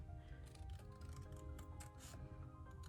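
Scissors cutting open the sides of a paper envelope while decorating a journal: soft, close snipping strokes, quiet and steady, over faint background music.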